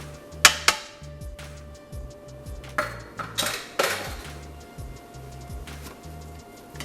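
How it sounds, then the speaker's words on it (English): Vegetables are stirred in an Instant Pot for Spanish brown rice, with light clinks and taps of a utensil against the pot and sharper knocks early on, over a steady low hum. "We're just gonna give this a stir and let it saute until the vegetables are nice and translucent."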